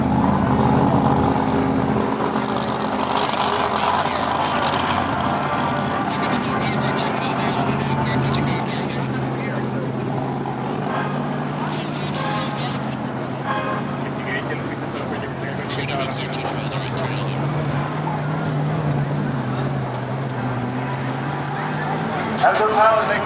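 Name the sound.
E-2C Hawkeye propeller aircraft flying at airshow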